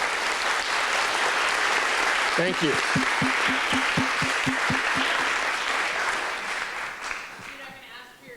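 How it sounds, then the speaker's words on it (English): An audience at a panel on post-disaster planning and rebuilding gives the panelists a full, sustained round of applause, loud and dense throughout, while someone speaks briefly over it. "Please give a round of applause to our panelists."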